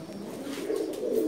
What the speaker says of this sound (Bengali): সুন্দরী জাতের কবুতর, সুন্দরী জাতের কবুতর।